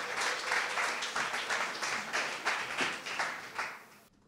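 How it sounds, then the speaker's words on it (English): Audience applause introducing the next team at a coding bootcamp demo day in Amsterdam, a modest crowd clapping in a rhythmic, pulsing patter at moderate distance that fades out abruptly near the end. "Yeah, big applause, please."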